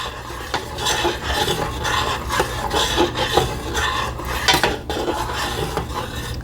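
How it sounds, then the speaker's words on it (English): A utensil stirring vanilla extract into caramel glaze in a pot, close and fairly loud, with repeated scraping strokes against the pan in an uneven rhythm and no talking. "put in the teaspoon of vanilla extract that I had. Stir that in there."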